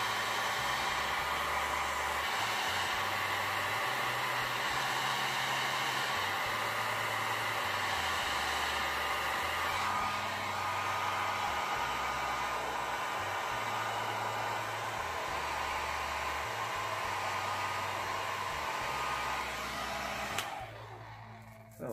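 A hair dryer blows steadily while drying hair, a loud continuous whoosh with a motor hum that shifts in pitch as it is moved or switched between settings, then cuts off near the end.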